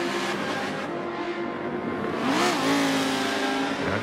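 Lemon Zest race car at Brands Hatch in Forza 7, engine droning steadily then rising in a short rev near the Westfield Bend, with a faint tyre squeal and no talking.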